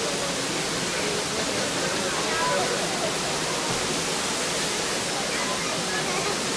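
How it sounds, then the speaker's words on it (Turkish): Erfelek Tatlıca waterfall in Turkey roars as a dense, unbroken wash of falling water, loud and close, with no change in level throughout. "Şu an Erfelek Şelalesi'ndeyiz."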